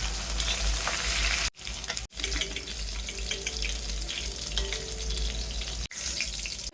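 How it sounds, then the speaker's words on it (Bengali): Whole fish fry in hot oil, a loud, dense, continuous sizzle heard up close, broken by two brief cuts in the sound. "মাছগুলি ভেজে নিচ্ছি"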